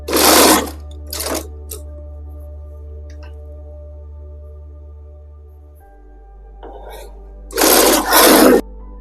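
A sewing machine stitches gota lace onto a chunni, running in a couple of short close bursts at the start and again near the end, with a low motor hum between and quiet room noise in the gaps.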